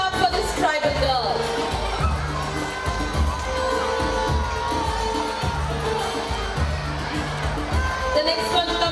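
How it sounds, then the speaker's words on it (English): Cheering and clapping from a crowd of children and parents at a school fancy dress competition, greeting a young girl dressed as an Odisha tribal girl; steady, lively crowd noise with shouts and background music throughout. "A big hand clap for this tribal girl."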